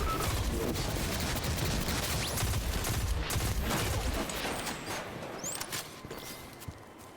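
Rapid gunfire crackles and pops throughout a firefight in the video game Destiny, a dense but fairly faint barrage of overlapping shots that thins out toward the end.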